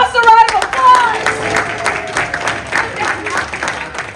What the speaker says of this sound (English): Give us a round of applause!